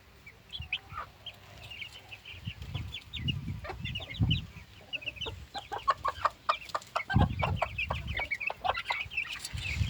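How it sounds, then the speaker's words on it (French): Young chickens from a first brood, now well grown, cluck and chirp repeatedly in an outdoor poultry run, with a steady, moderately close stream of short calls and no talking. "pour la première couvée, vous pouvez voir que les poussins ils ont bien grandi"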